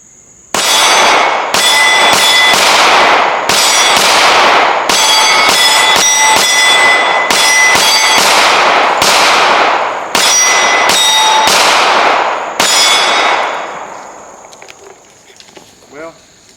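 Walther PDP Pro SD Compact pistol fired at reactive steel on a range, a close string of about a dozen sharp, loud shots, each followed by a ringing metallic clang, then fading to quiet.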